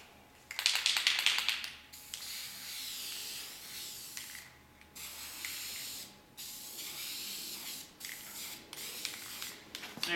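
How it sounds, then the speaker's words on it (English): Steady hissing spray of paint onto a concrete floor runs nearly continuously, with a louder burst near the start and brief pauses between passes. "we're gonna go ahead and spray paint the concrete floor"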